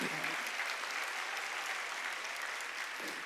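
Congregation applauding during a Korean church Sunday worship service, a steady, even wash of clapping that holds for the whole stretch at moderate level, with no voice over it.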